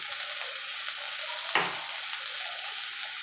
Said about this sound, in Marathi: मी आता कांदा चांगला लालसर होईपर्यंत भाजून घेते